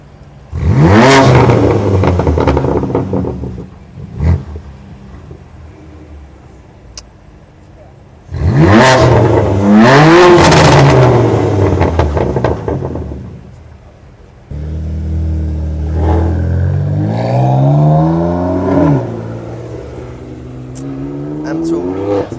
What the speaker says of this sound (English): Rev that shit, Brayden.